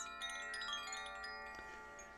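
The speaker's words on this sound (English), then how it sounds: "This is a Kashi bell from the Pyrenees Mountains." A Koshi chime bell rings in a shimmering cluster of small chime tones, continuous, bright and overlapping, with a light tinkling shimmer and no voices.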